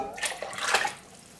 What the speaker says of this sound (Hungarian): felöntöm még vízzel, jó meleg vízzel most már